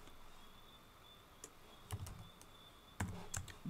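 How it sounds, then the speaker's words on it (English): Scattered keystrokes on a computer keyboard entering Excel shortcuts like Control-Shift with the arrow keys, faint, close-up clicks arriving in small bursts against quiet room hiss. "Control shift right and control shift down arrow on the keyboard"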